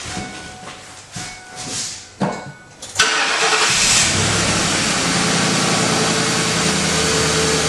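A 1996 Ford Mustang GT cranks with a few uneven starter pulses, then catches and settles into a loud, steady idle that holds to the end, heard close up with no talking.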